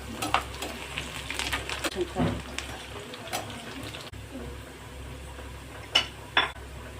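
Seeds and cumin crackle and sizzle in hot oil, a steady, fairly quiet frying hiss broken by occasional clinks and scrapes of a utensil against the pan.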